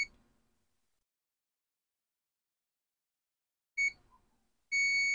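A continuity tester checking a mouse clicker switch gives a short electronic beep, followed by silence, then a second steady high-pitched buzz begins and continues to the end, close and clear.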